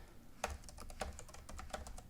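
Code being typed on a computer keyboard: a steady run of light, quick key clicks at moderate loudness with no talking.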